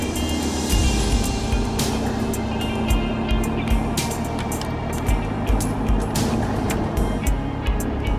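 A Jaguar XF with a naturally aspirated V8 lapping the Nürburgring gives a steady engine drone heard from inside the cabin, with rumbling road and wind noise and occasional sharp knocks and jolts.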